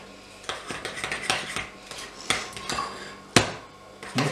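A utensil stirs a radish and milk kefir mixture in a bowl, making repeated clinking and scraping knocks at a moderate level, close by, with one sharper clank near the end.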